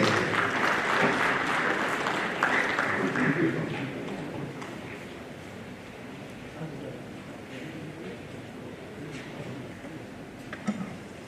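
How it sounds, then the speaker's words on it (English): Broad crowd applause at a talk on professionals in politics, loud at first and then thinning into a lighter patter that continues for several seconds before fading. "Can we clap for her, please, as she comes over?"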